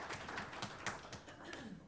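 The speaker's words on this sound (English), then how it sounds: "More clapping, more clapping." Applause from the audience at a board of education meeting after a motion passes, a dense steady patter of many hands clapping at close range for about two seconds.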